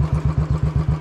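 A modified Royal Enfield Bullet motorcycle engine idles loud and close, thumping in a steady, rapid, evenly spaced pulse with a rough, crackling exhaust beat and no voices.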